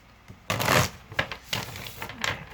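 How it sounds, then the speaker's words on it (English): Shamanic medicine cards being shuffled by hand, a few quick riffling bursts and soft flicks of card stock, close and fairly quiet. "I'm just going to shuffle and take one from the top, one from the bottom"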